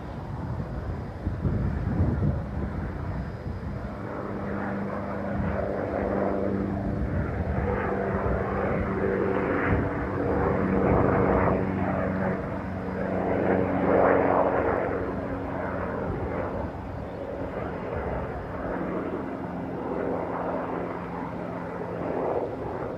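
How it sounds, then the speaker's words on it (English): A Fokker 50 turboprop comes in to land at Stockholm Arlanda airport. A steady propeller and engine drone holds for the whole stretch, with some wind noise on the microphone and no talking. "Alright, I see a plane incoming. It's probably the Fokker 50."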